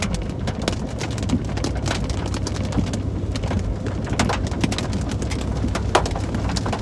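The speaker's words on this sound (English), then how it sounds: "You hear that hail coming down?" Hail pelts down during a tornado-warned storm around Davenport, Iowa: a dense, steady patter of sharp, rapid impacts, close and continuous, with no voices.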